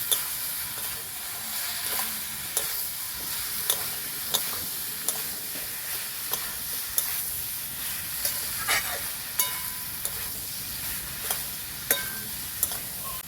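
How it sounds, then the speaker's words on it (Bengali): Soybean chunks fry in a hot pan with potatoes, giving a steady close sizzle and hiss, while a utensil stirs and scrapes against the pan in repeated sharp clinks roughly every second. "দিয়ে দেবো ভেজে রাখা সয়াবিন, ভালো করে নেড়ে চেড়ে কষিয়ে নেব।"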